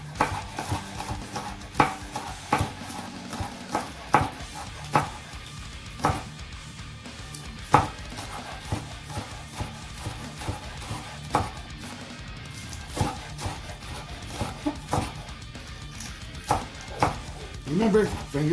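Onions being chopped with a knife on a cutting board, a steady run of sharp, close knocks spaced through the whole stretch, with some kitchen clatter underneath.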